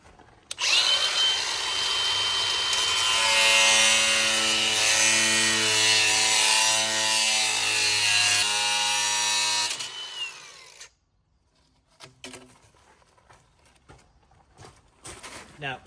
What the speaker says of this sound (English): So we'll cut a section of pipe.